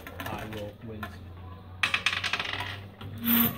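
Dice rolling and clattering on a table during a Yu-Gi-Oh card game tournament at a school anime club, a quick burst of hard rattling taps, with people talking around it.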